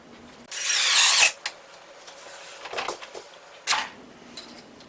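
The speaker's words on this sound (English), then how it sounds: "we're going to push this in tight against the cabinets and start screwing down" A power drill drives screws into a countertop form pressed tight against kitchen cabinets, one loud close whir of about a second followed by softer short bursts and scraping.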